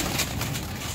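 A pigeon kept by a fancier gives a short, close, low coo lasting under a second, soft and breathy with no talking.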